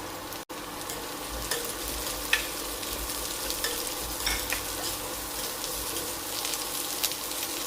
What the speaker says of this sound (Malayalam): ക്യാരറ്റ് ഒന്ന് വഴന്ന് വരണം അതിൻ്റെ പച്ചച്ചോയൊന്ന് മാറി കിട്ടണം ഇതിലേക്ക് അരിഞ്ഞു വെച്ചിരിക്കുന്ന ക്യാബേജ് ചേർക്കാം